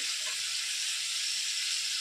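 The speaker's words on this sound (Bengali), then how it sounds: "গরম মশলাটা ভাজা হয়ে যাক।" Garam masala spices frying in hot oil, producing a steady, even hiss of sizzling at moderate loudness with no talk and little variation across the short stretch.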